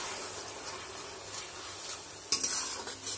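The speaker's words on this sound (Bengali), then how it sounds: "এবারে ভালো করে মশলাটা কষতে হবে" Spice paste with turmeric and chili powder frying in a pan for biryani, with a low steady sizzle and gentle stirring, then a sudden spatter and clink of a spoon near the end.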